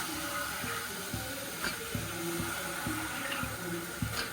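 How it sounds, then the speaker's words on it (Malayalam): Water is poured from above into a pot of soaked cowpeas, a steady splashing stream with faint gurgles and clinks at close range and no voices. "വെള്ളം ഒഴിച്ചു കൊടുക്കുക."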